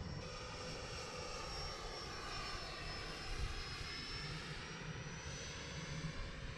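An FMS Rafale 64mm electric ducted fan RC jet flying overhead, a continuous high whining fan roar held at a fairly even distance with slight swells, no voices.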